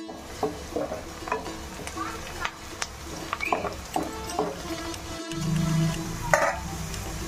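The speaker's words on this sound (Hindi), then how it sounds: "थोड़ा प्याज डाल लेना, उसको अच्छे से फ्राई करके गोल्डन कलर आए तक उसको फ्राई करना चाहिए" Onions fry in oil in a pan with a soft continuous sizzle, broken by intermittent scraping and stirring knocks of a utensil against the pan, close and moderately loud, with no one speaking.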